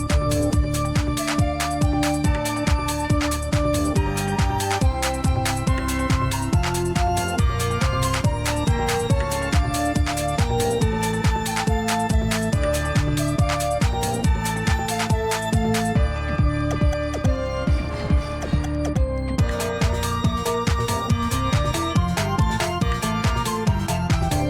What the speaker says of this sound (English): I've made it kind of Halloweeny and spooky.